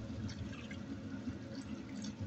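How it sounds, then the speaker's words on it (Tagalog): Water is poured into a pot of simmering pork and potato stew with ketchup, a soft continuous pouring and bubbling sound, faint and close, with no talk. "dagdagan ko lang ito ng tubig mga ka-idol"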